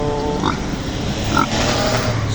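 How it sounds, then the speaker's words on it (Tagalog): A roughly 65-kilo pig is loaded for transport at San Jose Public Market, giving two short squeals over a dense, noisy outdoor background. "nagkakarga tayo mga idol ng baboy para sa party ni Singson"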